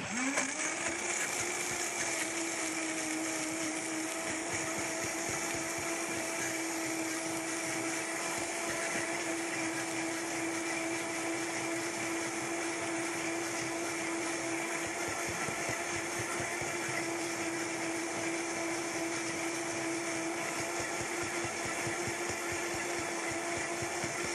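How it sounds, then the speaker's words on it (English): A powerful blender runs continuously at high speed, a steady loud whirring drone that holds without pause throughout. "you need a high-powered blender to do this"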